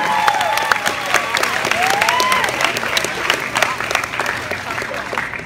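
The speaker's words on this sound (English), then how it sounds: "give these people one more final round of applause" An audience at a high school all-night graduation party hypnotist show claps in a sustained round of applause, with scattered cheers and a voice speaking over it.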